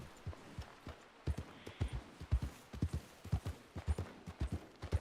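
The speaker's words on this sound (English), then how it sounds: "Thought I heard footsteps for a minute." Horse hooves clip-clopping in Red Dead, a steady walking rhythm of muffled thuds at mid distance, with faint background murmur.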